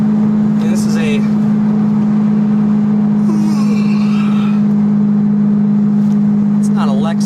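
A Ferrari 550 Maranello cruises in sixth gear at highway speed, its engine holding a steady, loud low drone beneath occupants talking over it in the cabin.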